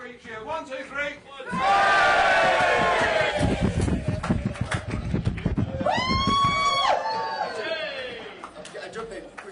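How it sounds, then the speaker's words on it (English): Crowd at a Reform UK political rally cheering loudly and together after a count-in, broad sustained roar of voices and whoops that fades and then swells again near the end. "Give us a 1, 2, 3 cheer."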